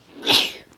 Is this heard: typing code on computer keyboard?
no